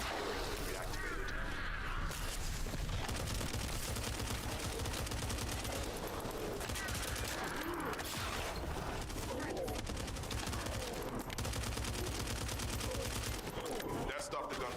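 Sustained gunfire from the video game The First Descendant, dense bursts of shots and automatic fire running loud and continuously throughout, with game voices and effects mixed in.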